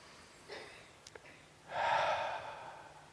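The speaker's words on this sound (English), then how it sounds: "Breathing in, I breathe for me." A slow audible inhale followed by a longer, louder breath close to the microphone during a calm talk, with a couple of small clicks before it and near silence around it.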